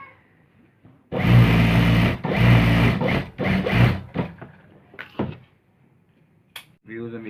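A sewing machine stitches a salwar in three loud mechanical bursts, each lasting about a second, followed by a few short clicks and taps of handling the cloth. The run is close and clear, with brief pauses between the bursts.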